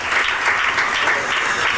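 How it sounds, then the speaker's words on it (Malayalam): Church congregation applauding at a Sunday service, a steady, dense wash of many hands clapping together, loud and continuous throughout with no voices standing out. "സിസിലി ആൻറ്റിക്ക് ചർച്ച ഒരു സുന്ദരം ക്ലാപ്പ് കൊടുത്തേ."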